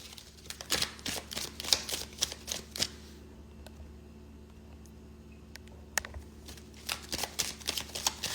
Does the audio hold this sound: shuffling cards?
yes